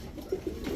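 A Red Tiger Danish pigeon gives short, low cooing pulses, two or three quick notes close by, quiet against a steady background hum.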